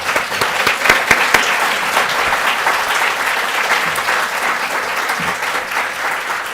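A crowd claps steadily for students from Beat the Streets at a community talk event, a thick, even round of applause with a few louder individual claps near the start.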